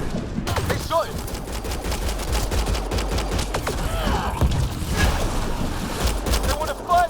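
Gunfire fills a battle in the game Rebel Ryder: rapid, irregular volleys of shots crack repeatedly over a dense rumbling backdrop, loud and close throughout, with voices talking in between.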